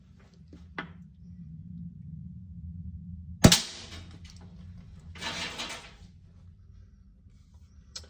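A BSA R12 CLX .177 air rifle charged to 230 bar fires a single BSA Elite pellet, giving one sharp, close crack amid a quiet room, followed a moment later by a brief softer rustle.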